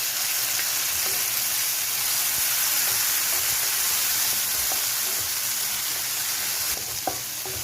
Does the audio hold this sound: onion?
yes